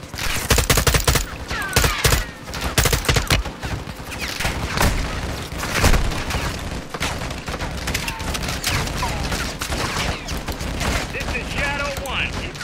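Dense bursts of rapid gunfire against armored army vehicles in a Modern Warfare 2 battle, loud and overlapping with sharp cracks, under intermittent talking.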